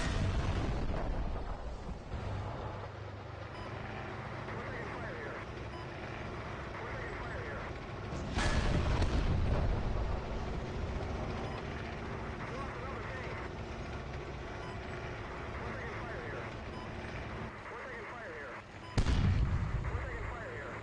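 Tank cannon fire and explosions on the Central Golan map of the Steel Beasts Pro simulator, two heavy booming blasts several seconds apart over a constant engine rumble, with voices talking on radio.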